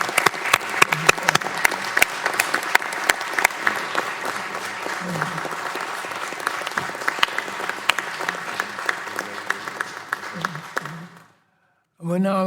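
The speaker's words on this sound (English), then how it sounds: "Would you please join me in giving John Marshall a big round of applause." An audience at a congressional subcommittee hearing gives a long round of applause, dense sustained clapping that fades out near the end before a voice resumes.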